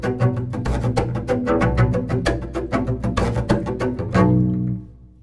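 Double bass groove with rapid percussive triple chop strokes in a steady rhythm, bowed notes ringing between the chops, close and loud, ending on a sustained note.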